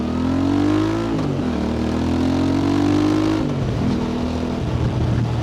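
A Voge 625DSX motorcycle fitted with a Scorpion aftermarket exhaust accelerates through traffic with a loud, deep, rising engine note that shifts pitch as it changes gear, close and continuous with no speech.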